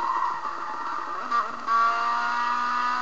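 Race cars in a Rainbow Road racing video game: a continuous whining engine drone with shifting pitch, a short burst of tire squeal midway, then a steadier high engine tone to the end, with no talking.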